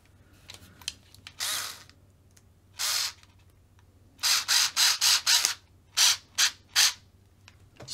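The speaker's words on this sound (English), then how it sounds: "you're going to want to screw this into the steering assembly." A long screw being driven into the steering assembly of a Tamiya TT-02 RC car: close, bright bursts of rasping grinding, a few isolated and then a run of rhythmic short pulses, alone with no talk.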